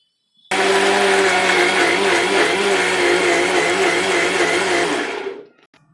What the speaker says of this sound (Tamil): நம்ம ஒன்றா வந்து மிக்சியில் கொஞ்சம் அடித்து எடுத்துக்கிடலாம்